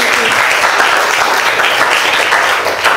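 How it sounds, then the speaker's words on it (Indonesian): Students in a classroom clap together in a dense, lively burst of applause that stays loud and even throughout, with no talking over it. "Terima kasih, tepuk tangan."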